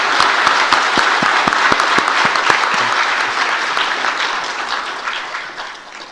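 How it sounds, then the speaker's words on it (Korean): Church congregation applauding graduates during a Sunday service, loud close clapping with a few sharp individual claps up front, fading gradually toward the end. "우리 큰 박수로 한 번 더 축하하겠습니다"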